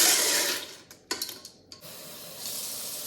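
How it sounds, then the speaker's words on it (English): Water pouring into a pot of washed pinto beans: a loud, close rushing hiss that breaks off into a few splashes and knocks, then resumes as steady filling, with no talking. "just 4 cups of water."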